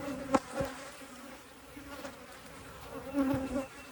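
Honey bees hum around an open hive during a Texas queen-rearing frame swap, a steady low buzz with a few louder passes of individual bees close by, no voices.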